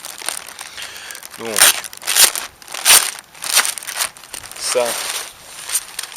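Helikon-tex tactical trousers being unpacked: plastic packaging crinkles and rustles in loud bursts, interleaved with someone talking.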